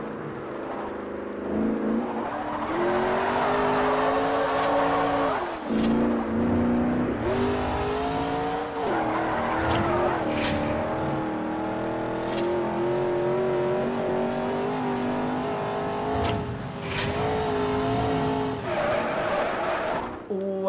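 A C6 Corvette engine in Forza Horizon revs and roars loudly through tunnels, rising and falling in pitch with sustained echoing drone and occasional sharp shifts, heard alone without talk.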